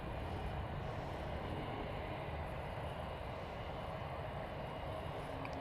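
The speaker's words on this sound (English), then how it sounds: "And there goes NorCal departure for the 757." A Boeing 757 airliner takes off from San Francisco, its engines a steady, broad roar that holds loud and constant throughout, with no voices over it.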